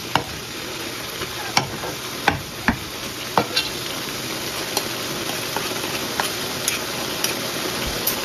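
Pancit bihon rice noodles being stirred in a pan over a soft background sizzle, with sharp, irregular clacks of a utensil hitting the pan every second or so, close by, no talk.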